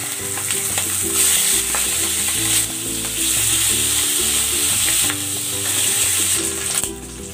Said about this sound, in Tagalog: Kaya ipan-grill ko muna bago natin isahog dun sa gulay.